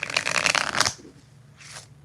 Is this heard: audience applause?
no